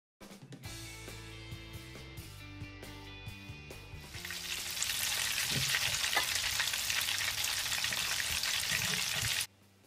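Snapper fish frying in hot oil, Jamaican style: a loud, steady, crackling sizzle swells in after a few seconds of music and fills the rest of the clip up close.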